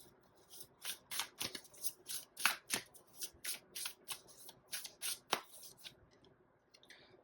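Tarot cards are shuffled close up in a quiet room, a quick rhythmic run of about fifteen crisp riffles and slaps that stops near the end, with no speech.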